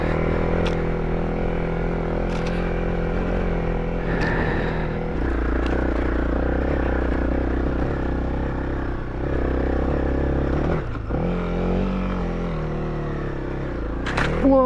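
Honda CRF small adventure motorcycle riding a snowy mountain trail, its engine humming steadily close up with revs rising and dropping, plus clattering and scraping over rough ground and a few brief spoken words.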